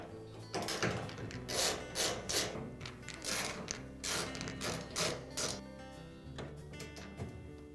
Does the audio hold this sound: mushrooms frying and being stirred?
no